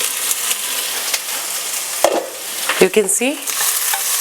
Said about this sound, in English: saute it well with the lid and let it cook for 2 to 3 minutes